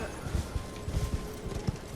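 Quick, rhythmic clip-clop of horse hooves trotting in the video game Elden Ring, fairly close, with a soft background hum.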